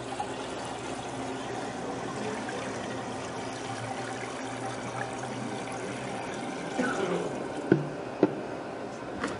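A sugar and water mixture for blueberry Italian ice pours into a machine in a steady, soft liquid stream, with a few louder clunks and splashes near the end.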